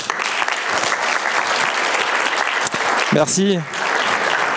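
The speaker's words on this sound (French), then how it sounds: "On peut les applaudir." An audience at a skiing and mountaineering conference applauds steadily throughout. Near the end, a voice speaks briefly over the clapping.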